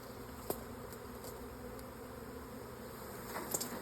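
A swarm of bees buzzing steadily around a hive, a faint continuous drone with a few sharper close passes and small clicks, no voices.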